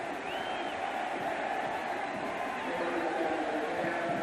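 A college football stadium crowd in Miami keeps up a loud, steady roar of cheering throughout, a dense wall of distant voices with a commentator talking faintly over it.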